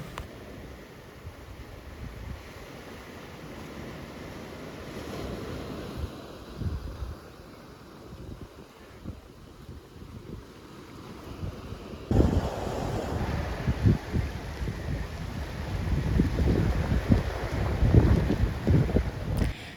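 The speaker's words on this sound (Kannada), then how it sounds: "ಇಲ್ಲಿ ಅಲೆಗಳು ಎಷ್ಟು ರಭಸದಿಂದ ದಡಕ್ಕೆ ಅಪ್ಪಳಿಸ್ತವೆ ಅಂತ" Sea waves surge onto the shore at Bengre beach, Mangalore, under strong, steady wind buffeting the microphone; the roar of the surf grows noticeably louder and heavier in the second half.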